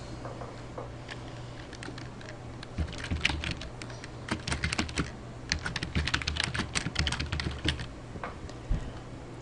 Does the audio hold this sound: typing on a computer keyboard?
yes